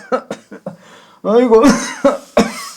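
An elderly man with a lingering cold coughs, a series of short, harsh coughs close by, broken by a groaning exclamation.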